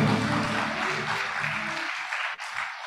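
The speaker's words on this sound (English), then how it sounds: "let's give the FINEX committee in charge of this a warm round of applause" Warm round of applause for the FINEX committee at a CFO of the Year award event, dense and steady clapping that thins out near the end, with a brief lull and a few trailing claps.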